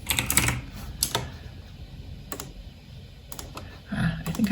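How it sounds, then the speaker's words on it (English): Typing on a Turkish-layout computer keyboard: a few scattered bursts of key clicks separated by pauses, fairly close and moderately loud, with no talking. "I'm going to need my Turkish keyboard again."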